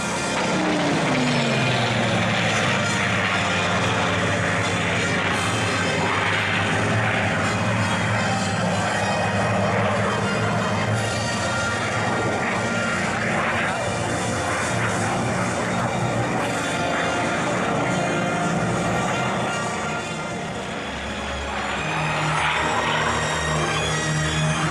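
A Hawker Sea Fury propeller aircraft roars past at the La Ferté-Alais airshow, a loud sustained engine drone for the whole stretch, swelling and fading slightly near the end, with a voice commentating over it.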